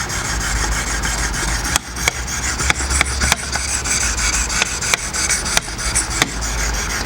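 A reed knife is honed on Wicked Edge sharpener stones, with continuous close rasping strokes broken by regular sharp clicks as the stones are passed along the blade.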